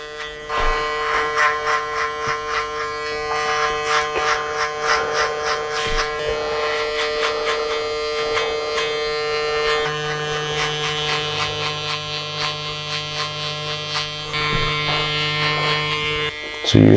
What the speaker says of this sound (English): I'll sort the clippers out.